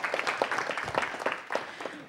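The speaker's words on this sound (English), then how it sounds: "Please give him a round of applause as well." A crowd at a council meeting applauds, a dense patter of many hands clapping at moderate loudness, steady throughout with no voices standing out.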